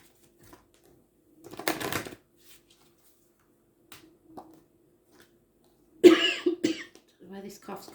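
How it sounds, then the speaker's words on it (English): A person coughs a couple of times in a quiet room, with a short cough early on and a harsher, louder one later, followed by rustling. "Where this cough's come from all of a sudden."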